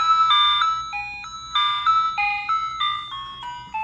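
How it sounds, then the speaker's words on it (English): A dusty Vixen 46 horn that has sat unused for a while plays a loud, slightly scratchy melody of stepped electronic tones, rising and falling in quick succession with no talking. "The horn might sound scratchy, don't mind it. It just has a lot of dust."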